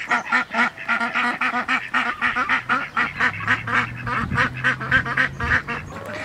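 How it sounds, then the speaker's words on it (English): Mother ducks with their ducklings on a homestead, quacking and honking loudly and up close in a rapid, rhythmic series that goes on without a break, with a lower hum in the background. "Mamas are coming out to check on all the ducklings"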